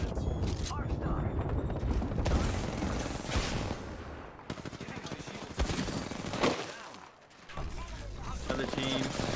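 Heavy gunfire in the battle royale game Apex Legends, with dense bursts and sustained automatic fire crackling loudly throughout, broken by a few short lulls, while a player talks over the fight.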